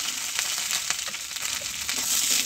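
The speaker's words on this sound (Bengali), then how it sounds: "আলুগুলো দিয়ে ভালো করে নেড়ে দিচ্ছি" Potatoes fry in oil while being stirred in a pan, giving a soft, continuous sizzle broken by light scraping and crunching taps, fairly quiet and without speech.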